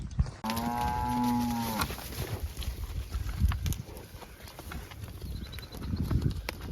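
Beef cattle, Brahman and beefalo, moo loudly in a long low call near the start, then hooves clatter and thud unevenly as the herd crosses a cattle crossing into a pond pasture, with more faint lowing later.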